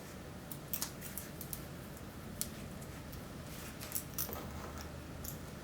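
Hair shears snip in a quiet salon during a freehand fade haircut, giving sparse, faint, crisp clicks scattered irregularly over low background hiss.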